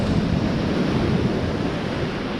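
Wind and surf roll steadily against the Bristol Channel shore at high tide, a constant broad rush of waves and gusting air buffeting the microphone, loud and close with no break.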